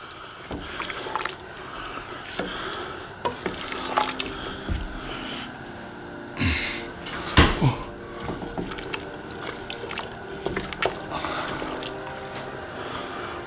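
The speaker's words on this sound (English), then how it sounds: "And just get that stirred well in now." Chopped piccalilli vegetables stirred in a pot, wet squelching and scraping strokes in an irregular rhythm with knocks against the pot, close and fairly loud, no talk.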